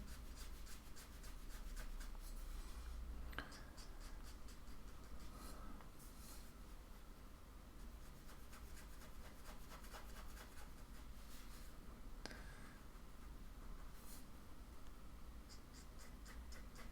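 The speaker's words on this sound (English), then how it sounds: "And I'll just do some general stone type shading." Pencil shading a stone on paper in a drawing journal makes a faint, continuous soft scratching with quick back-and-forth strokes throughout.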